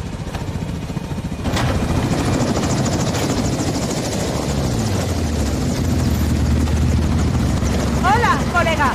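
A helicopter in the Call of Duty Modern Warfare 2 video game gives a loud, steady rotor and engine drone that starts abruptly after a quieter opening and holds to the end, with a short chirping sound near the close.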